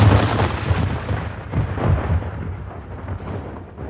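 A rank of soldiers fires a musket volley at Bunker Hill, a heavy rolling boom with rumbling echoes that slowly fade over several seconds.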